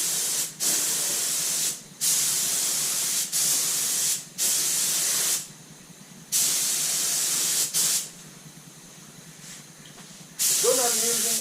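An AID Model 2 spray gun from the 1970s lays a wet coat of paint in five hissing bursts, each a second or two long, separated by short pauses.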